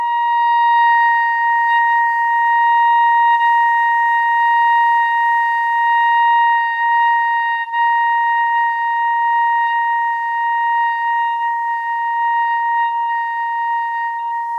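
A reed instrument sustains a single high C for nearly fifteen seconds while the player shifts the tip of the tongue, giving a steady, bright tone with only slight wavering in timbre and pitch, alone and close.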